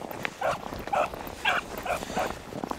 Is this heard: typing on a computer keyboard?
no